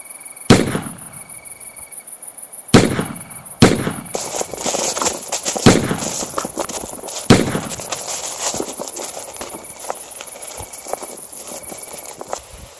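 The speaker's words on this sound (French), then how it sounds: "tout d'un coup j'entends des coups de feu à quelques dizaines de mètres de moi" Gunshots ring out a few dozen metres away at night beside the Loire: a handful of loud, sharp cracks spaced a second or two apart, each trailing off, over a steady chorus of crickets.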